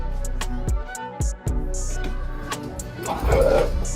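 A dog barks in a few sharp, close yips and woofs at a steady low rumble of background noise, with a brief whimpering tone near the end.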